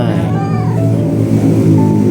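A hungry big cat meows repeatedly, drawn-out and fairly loud, close to the listener.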